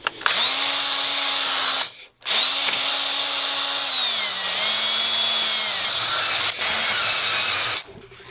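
A power drill spins a cylinder hone inside the bore of a Yamaha Warrior quad engine, a loud steady whine with brief stops, its pitch sagging as the load changes, and no voices.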